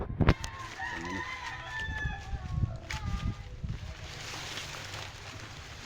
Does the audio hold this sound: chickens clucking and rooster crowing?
yes